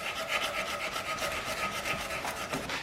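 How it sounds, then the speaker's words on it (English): Rhythmic hand sanding of a forged knife with sandpaper, a soft rasping scrape repeating back and forth in steady strokes, close by and moderately quiet. "now I'm just hand sanding"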